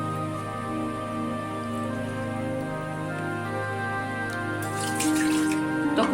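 Water pours into a pressure cooker, a steady trickling and splashing that runs throughout and grows louder and brighter near the end.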